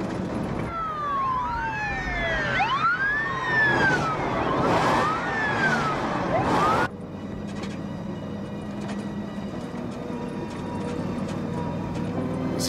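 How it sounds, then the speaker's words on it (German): Emergency sirens wail with rising and falling sweeps, fairly loud, then cut off abruptly, leaving a low background rumble. "Ich höre die Sirenen schon."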